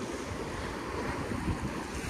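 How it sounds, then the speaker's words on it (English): Ocean waves surging in behind rocks and washing over them at the seaside at Avon-by-the-Sea, a steady broadband roar of surf with wind noise and no voices. "with the waves coming behind the rocks and going on it"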